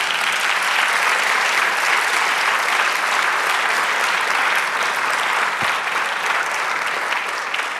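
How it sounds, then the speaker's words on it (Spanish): A church congregation applauds loudly and steadily, a thick wash of clapping hands that holds without a break for nearly eight seconds, with a single low thump partway through. "Denle un aplauso al Señor."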